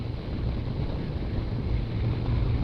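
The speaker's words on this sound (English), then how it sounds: "Wind noise has definitely got up." Steady, heavy low rumble of wind buffeting a camera microphone on a Honda NT1100 motorcycle at riding speed, continuous and loud with no breaks and no talking.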